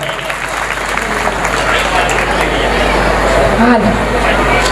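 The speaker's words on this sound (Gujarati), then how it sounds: "જોરદાર તાળીઓના ગડગડાટથી ભાઈને વગાવો" A crowd at a community family gathering bursts into loud, sustained applause for a rising young performer, a dense roar of clapping close by that holds steady for several seconds.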